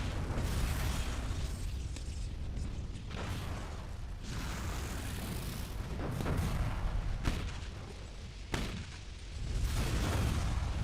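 A sniper shot power in the City of Heroes video game fires repeatedly as heavy booming blasts with rumbling decays, spaced a few seconds apart over continuous game noise.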